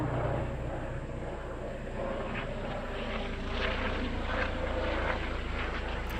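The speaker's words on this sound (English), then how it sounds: "Helicopter." A helicopter passes overhead, its steady rotor and engine drone filling the scene at moderate loudness with a faint rhythmic chop, holding constant with no voices.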